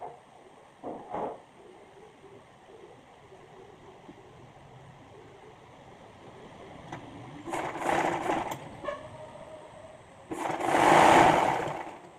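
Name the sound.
sewing machine stitching bias strip on baby frock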